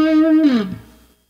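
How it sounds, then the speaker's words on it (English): A clean electric guitar with no effect plays a short lick, two close notes and then a downward bend that fades quickly into silence. "If you want to hear my clean tone, this is without the effect at all."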